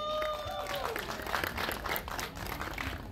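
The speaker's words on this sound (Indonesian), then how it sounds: "Tepuk tangan juga dong untuk Mbak Jenar Maisa Ayu." Applause at a press conference for a film screening, a brief burst of crowd clapping at moderate volume.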